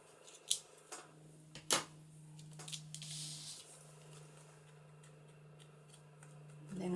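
Scissors snipping through card while making a Christmas card with gold accents, a few sharp close cuts near the start, then quieter handling rustle.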